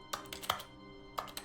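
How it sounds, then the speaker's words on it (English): Keyboard typing sounds triggered by clicking in The Stanley Parable, a few quiet, crisp key clacks in two short bursts with a pause between. "Every time I click, it makes a keyboard sound"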